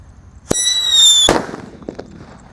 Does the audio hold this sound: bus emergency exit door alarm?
no